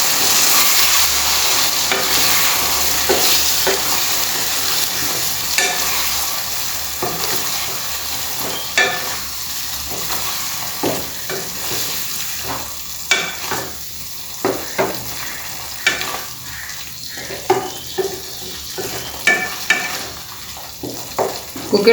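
Goan prawn curry of dried and fresh prawns being stirred and fried in a pan: a steady sizzle with repeated scraping stirs that grow more distinct and rhythmic toward the end, close and fairly loud, no talking.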